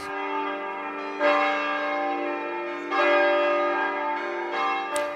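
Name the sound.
church bells ringing at Mount Angel Seminary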